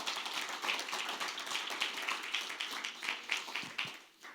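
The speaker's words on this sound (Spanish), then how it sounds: "dele un aplauso al Señor." Church congregation clapping during a Spanish-language service, a quick rhythmic run of many hands striking together at close range, tapering off at the end.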